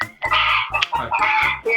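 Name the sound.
chicken clucking near a participant in an online class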